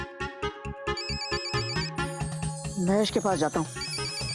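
A mobile phone rings with an incoming call in a comedy show scene, a bright rhythmic melodic ringtone repeating close by, with someone speaking over the latter part.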